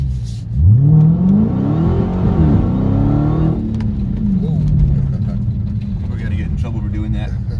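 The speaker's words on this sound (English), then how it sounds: "Oh, you can give it some gas right here." A Dodge Hellcat on a dyno revs hard, its engine sweeping up in pitch then settling into a loud, sustained roar, with people talking over it.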